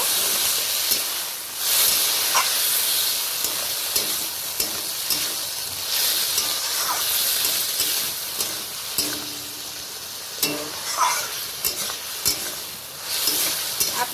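Hot ginger-garlic paste hisses and sizzles steadily as water hits the pan for a fish curry with potatoes and onion greens, with stirring scrapes and a few sharper bursts of spitting up close.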